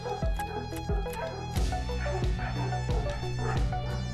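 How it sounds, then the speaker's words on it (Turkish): Dogs bark and yip several times at a steady rhythm in the FIFA 17 video game, mixed into a dense layer of music that plays throughout. "Duyuyor musunuz? Köpek seslerini."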